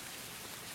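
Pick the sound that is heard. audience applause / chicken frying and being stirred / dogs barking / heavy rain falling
heavy rain falling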